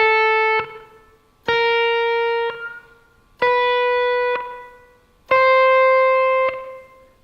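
Four sustained slide guitar notes in open E tuning, each struck clearly and ringing with rich harmonics before a brief slide shift, the pitch climbing by semitones in a slow, even rhythm, with no talking.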